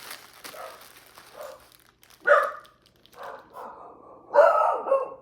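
Dogs bark indoors in a few separate bursts, some muffled and some sharper and closer, with quiet gaps between them.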